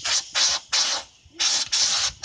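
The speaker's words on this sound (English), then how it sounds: "make sure you wanna have the door closed while you do any air gun spray blowing it" Compressed-air gun blowing dirt out of body kit cracks on a car, five loud, close hissing bursts of about a quarter second each in an uneven rhythm, with short gaps between them.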